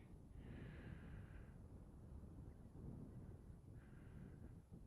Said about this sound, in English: All I can hear now is that wind blowing